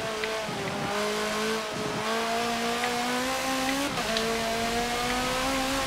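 A race car engine in Forza Motorsport 7 holds a loud, continuous high-revving whine, dipping briefly at gear shifts before climbing again, with no talk over it.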